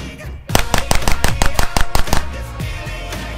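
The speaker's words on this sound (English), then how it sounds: "We're going to have 10 rounds. The first five are Winchester 115. The second five are Fiocchi 115." A Glock 48 pistol fires a rapid ten-round string, five Winchester 115 rounds then five Fiocchi 115, sharp loud reports in a quick even rhythm that ends with a tail of echo and background noise.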